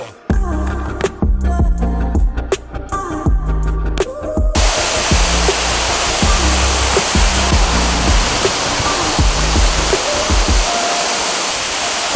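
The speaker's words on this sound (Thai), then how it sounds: "ก็มาถึงฐานน้ำตกแล้วนะครับ" A waterfall at a lake in Utah roars as a steady, loud broadband rush of falling water, close by and continuous, with some rhythmic footsteps or knocking in the first few seconds.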